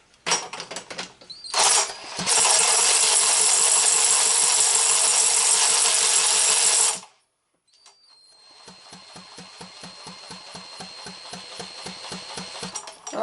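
Power drill spinning a motor over, with a brief start, a steady loud whine for about five seconds, silence, then a rhythmic cranking chug that slowly builds.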